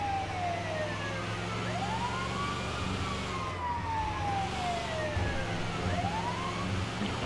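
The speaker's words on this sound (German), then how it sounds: "Ja, machen wir die Sirene." In GTA Online, an ambulance siren wails continuously, with rising and falling sweeps that repeat over several seconds and stay loud and steady, with no voices over it.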